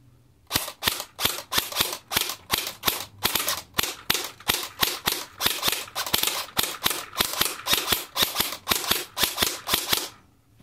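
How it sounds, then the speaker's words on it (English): Airsoft JG MP5 with full stock firing single shots on semi-auto from a light trigger, a fast run of sharp, loud snapping reports at close range with no talking. "so this is on semi-auto, the trigger's that light you can bounce it and still only fire one shot at a time"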